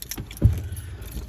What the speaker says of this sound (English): Better get the keys out of the back pocket.